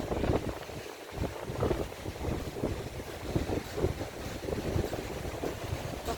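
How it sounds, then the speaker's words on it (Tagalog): Gusty seaside wind on an overcast Boracay beach buffets the microphone steadily, a rough, rumbling roar with surf-like wash behind it and no voices. "Makulimlim, mahangin,"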